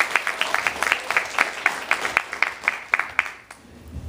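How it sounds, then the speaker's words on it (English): A live audience at an astronomy night in a science centre claps in a steady round of applause, dense hand claps rising and then thinning out toward the end. "Let's give him a round of applause and a warm welcome to Telus Spark."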